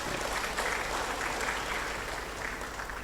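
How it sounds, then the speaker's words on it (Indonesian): An audience at an Islamic college ceremony in Cirebon claps steadily for a degree-program permit handover, a dense and even round of applause heard from start to finish. "ya tepuk tangan dulu."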